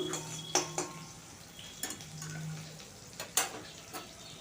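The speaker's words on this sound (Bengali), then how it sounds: "দিয়ে দিচ্ছি দুটা কাঁচা লঙ্কাকে কুচি করে তারপর ভালো করে ফুট ভেজে নেব একটু" Chopped green chillies fry quietly in a pan, a faint low sizzle punctuated by several sharp metallic clinks and scrapes of a spoon stirring against the pan.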